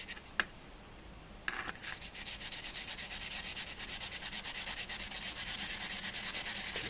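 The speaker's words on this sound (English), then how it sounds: "And then it needs to go through this grater." Fresh wasabi root rubbed over a grater in steady, rapid rasping strokes that build into a continuous close scraping rhythm after a few isolated scrapes, with no talking.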